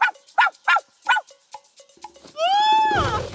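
A cartoon puppy barks four sharp, loud yaps in quick succession, then softer yips trail off before a long rising trumpet-like honk swells at the end.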